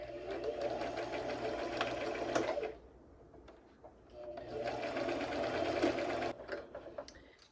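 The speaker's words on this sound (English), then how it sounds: "And we're gonna sew the short sides together." Domestic sewing machine stitching the short sides of dress fabric together, a rapid mechanical whir in two bursts of about three and two seconds separated by a short pause, close and clear.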